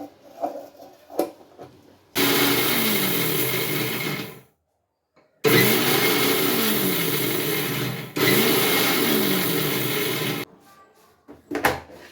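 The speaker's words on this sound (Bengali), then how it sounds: "এখন এই যে ভাইজে ব্লেন্ডার করব।" A blender grinds dried ripe home-grown chili peppers into powder in three loud, steady bursts, each starting abruptly and stopping with short pauses between, with quieter handling sounds before and after.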